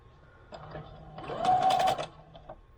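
A home sewing machine stitches a pant leg hem in a short mechanical whirring burst that swells and stops after about a second, fairly close and quiet.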